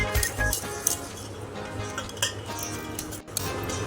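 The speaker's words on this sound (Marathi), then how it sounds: "घासून असं आपल्याला ते चाळून घ्यायचं आहे" Laddu mixture of crushed whole wheat churma rubbed through a metal sieve, giving steady scraping and faint metallic clinks and rattles, close and fairly quiet, with no talking.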